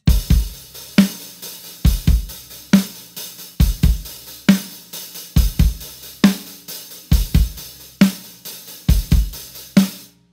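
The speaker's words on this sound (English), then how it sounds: "So you want to play it with a slightly loose hi-hat." Rock drums play a groove with punchy kick and snare and a slightly loose, washy hi-hat in a steady repeating pattern, close and loud with no talking.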